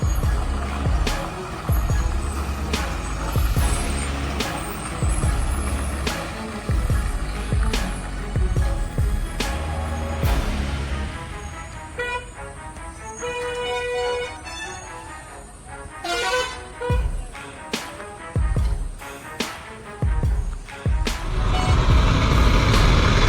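Big rig trucks on a muddy mountain pass, heavy diesel engines rumbling and revving loudly and close, with repeated reversing beeps and air brake hisses over continuous engine drone.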